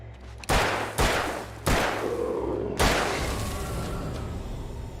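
Gunshots in the video game Alan Wake: three sharp, loud blasts about a second apart, each trailing off into a ringing echo, with a final shot decaying slowly.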